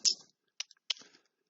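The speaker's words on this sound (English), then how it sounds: "So I type in tangent, and then second cosine, and then square root of 3." A few sharp, quiet clicks of calculator buttons being pressed, spaced irregularly in three short bursts against near silence.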